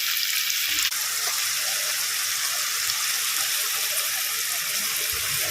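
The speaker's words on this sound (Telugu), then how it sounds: "బొమ్మిడి చేపల్ని వాటర్లో వేసి శుభ్రంగా ఒక 2-3 సార్లు కడుక్కొని తీసి పెట్టుకుందాం" Running water splashes steadily as small bommidi fish are washed by hand in a kitchen, a continuous close hiss and trickle with no talk.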